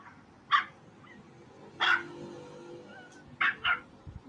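A dog gives a handful of short, high yips and barks with brief whimpering whines, spaced irregularly against a quiet background.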